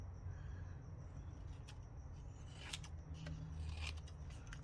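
Scissors make a few scattered crisp snips while trimming the edge of a paper belly band on a handmade tri-fold booklet, close up and faint, with a low background hum and no talking.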